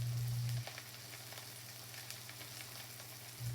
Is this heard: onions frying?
yes